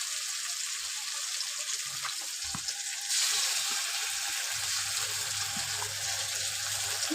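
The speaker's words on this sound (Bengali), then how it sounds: "দিয়ে খুব ভালোভাবে ভেজে নেব, কাঁচা গন্ধটা যেন না থাকে।" Onion, tomato, green chilli and ginger-garlic paste fry in a pan with a steady, close sizzle that brightens after a few seconds as the paste goes in, with occasional stirring scrapes and no talk.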